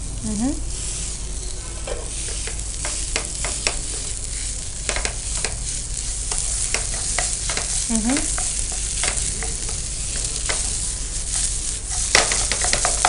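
Potatoes frying with cumin powder for aloo chaat hiss in a steady, close sizzle, broken by repeated scrapes and clicks of a stirring spoon, with no talking.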